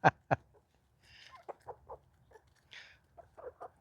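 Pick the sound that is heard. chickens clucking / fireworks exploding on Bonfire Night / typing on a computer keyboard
chickens clucking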